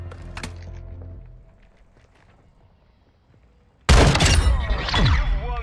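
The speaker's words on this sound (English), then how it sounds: "Oh, is that shotgun as well?" A loud, sudden blast of shotgun fire erupts in a video game gunfight after a quiet stretch, followed by a second heavy report and ringing debris.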